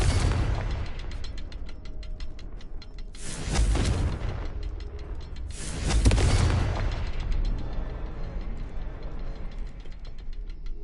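Blasts from the Confringo spell in the game Hogwarts Legacy: two booming explosive bursts with crackling, mechanical rattles over a continuous clicking, whirring background.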